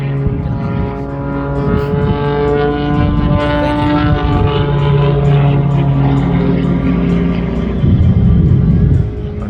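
An air show aircraft with 5,000 pounds of thrust at a Texas air show: a loud, continuous roaring drone with layered engine tones, close and dominant the whole time.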